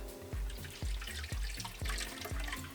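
Water rinses the human hair of a reborn baby doll in a sink, a soft, low-level run of water broken by about five evenly spaced splashy drips and pours.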